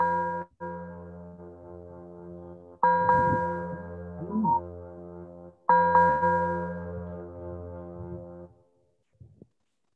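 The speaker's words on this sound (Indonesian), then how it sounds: "Lonceng gereja, lonceng termasuk." Church bell for Sunday worship at GKPS Graha Raya, likely played from a keyboard, sounds two long sustained tolling strikes that ring out and slowly fade, alone with no talk.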